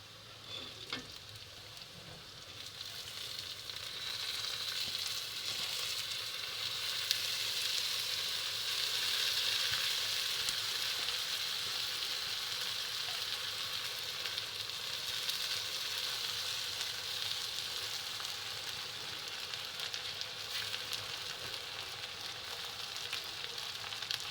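Masoor lentils frying with bitter gourd in a pan, a continuous bright sizzle that swells after the lentils drop in, with occasional stirring clicks and no talk.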